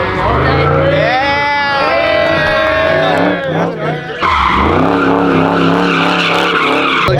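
Cars drifting in tandem on a freeway on-ramp, producing loud, continuous tire skidding and squealing layered over engine roar, with a brief dip before a second surge of screeching tires.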